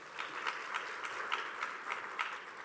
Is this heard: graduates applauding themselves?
yes